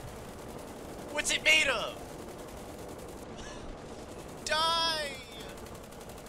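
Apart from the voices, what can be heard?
aircraft machine gun fire in the video game War Thunder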